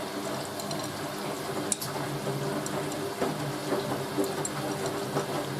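A Hoover A3060 Electronic 1100 washing machine fills with water for its first rinse on a towel wash, a steady rushing hiss of inflow with faint mechanical clicks, quiet and continuous.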